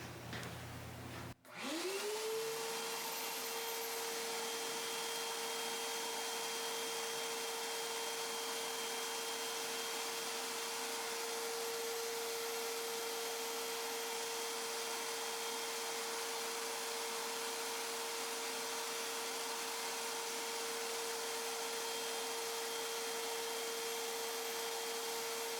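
Vacuum cleaner sucking excess static grass off a model railway layout through a sock over the nozzle, a steady close drone that switches on early and holds one even pitch.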